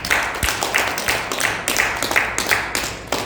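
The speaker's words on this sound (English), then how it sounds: "So let's all give Sharnella a big round of applause" A small audience claps in a steady, rhythmic pattern for a speaker at a youth finance talk, each clap sharp and distinct with a faint murmur beneath.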